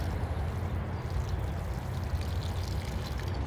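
Water pours steadily into a watering bowl of soil around a newly planted tree, a continuous close rushing and splashing wash with no talk over it.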